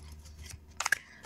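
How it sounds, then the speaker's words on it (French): Tarot cards being shuffled by hand: a quiet rustle followed by a quick cluster of crisp card snaps and flicks close by, very brief and with no talking. "Je vais battre les cartes."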